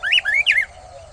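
A house sparrow gives three quick, bright chirps in close succession, near and clear with nothing else around.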